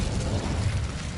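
Incendio fire spell burst in the video game Hogwarts Legacy, a short dense whoosh and crackle of flame with a low rumbling body lasting about a second, loud and unaccompanied by speech.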